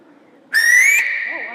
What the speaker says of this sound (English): I can whistle with my fingers really loud.